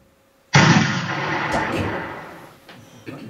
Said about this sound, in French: Et enfin, vers 11 h, éclate le premier coup de canon.